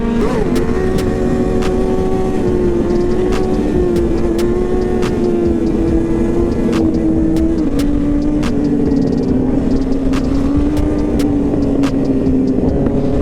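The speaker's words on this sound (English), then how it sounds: "Papa Wheelie! Let's see it." Sport bike engine held at a steady drone with a shifting pitch while the rider pulls wheelies, loud and continuous with sharp clicks and bumps throughout, no talking.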